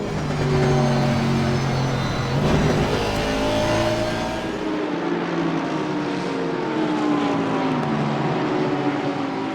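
GT3 race cars from a sim racing game pack through the Fagnes esses at Spa-Francorchamps early in a 24-hour race, with loud overlapping engine notes rising and falling through gear changes and no talk.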